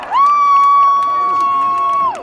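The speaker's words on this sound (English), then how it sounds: "let's hear for Kelly Marks." A crowd at a student-led March For Our Lives rally in Westchester cheers and whoops, and a long sustained shout or whistle holds steady for about two seconds at fairly close range.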